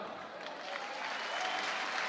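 An audience applauds at a Rwandan comedy show, dense clapping that swells slightly louder over two seconds, a broad wash of many hands heard from within the crowd.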